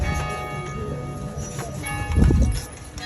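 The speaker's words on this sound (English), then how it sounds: "Wedding bells are ringing." Church bells ring out in historic Charleston, South Carolina, heard from a horse-drawn buggy tour: sustained, overlapping bell tones carry across the street, mixed with traffic and hoof noise, and swell briefly louder near the end.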